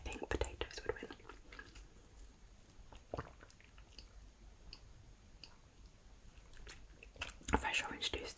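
Close, quiet mouth sounds of someone chewing loaded potato skins with nacho cheese and jalapeño, soft wet squishes and bites, with a louder crunch near three seconds and more toward the end.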